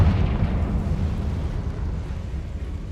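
Confringo fire spell explosion from Hogwarts Legacy, a loud sustained rumbling blast with heavy low-end roar that slowly fades over about three seconds, with no voices.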